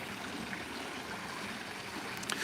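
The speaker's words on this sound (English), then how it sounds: "Oh, there's a waterfall." Water spilling from an overflow outlet like a small waterfall, a faint steady rushing and trickling wash with no voices.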